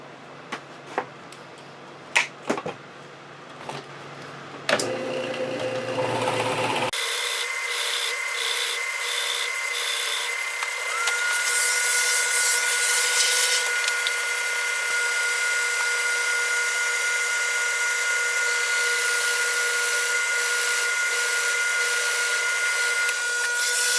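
A steady mechanical whine of a drill press boring into wood, with scraping and rubbing at the start before the motor settles into a continuous tone.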